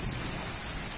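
Steady rain falls at a village fair, a dense, continuous hiss of drops on surfaces, close and fairly soft, with no voices.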